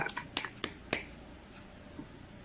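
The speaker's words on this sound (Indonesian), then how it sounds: "Kita aplaus dengan tepuk tangan ya" In a classroom peer-teaching session, a handful of sharp, separate hand claps ring out in quick, uneven succession, then give way to a quiet room.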